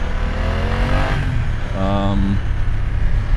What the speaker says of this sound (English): You hear that famous two-cylinder sound, pop pop pop pop pop.